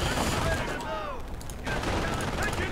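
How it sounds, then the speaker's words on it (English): Rapid bursts of machine gun fire and battle noise crackle densely from a Company of Heroes World War II strategy game, loud and continuous for a few seconds amid whistling projectiles. "We do have a machine gun."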